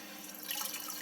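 Aquarium filter media from a Fluval FX6 canister filter being rinsed in tank water, giving a continuous close splashing and running-water wash.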